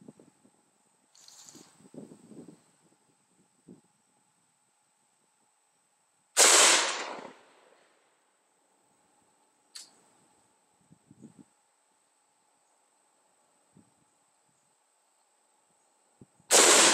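An AR-15 rifle fires at an outdoor range: two loud, widely spaced shots with echoing tails, one shorter crack between them, plus scattered faint clicks and handling noises.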